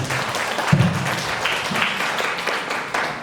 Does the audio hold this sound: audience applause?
yes